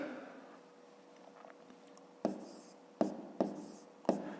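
Numbers written by hand on paper with a pen during a schoolbook maths exercise: soft, close scratching strokes followed by several sharper taps and scrapes as digits are marked, quiet and without speech.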